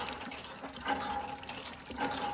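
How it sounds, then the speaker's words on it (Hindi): Water from a government-installed hand pump drawing sweet groundwater in a rural tribal village, falling and splashing faintly in an uneven trickle, with two short strokes of the pump. "ये इन इलाकों में सरकार द्वारा जो है हैंडपंप इस तरह से लगे होते हैं"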